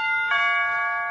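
An electric door chime sounds once, its bright ringing tones hanging and slowly fading with no one speaking.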